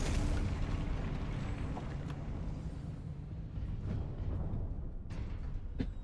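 A Confringo spell explosion in Hogwarts Legacy sounds as a broad, roaring blast that rumbles on continuously, with a few sharper pops scattered through it.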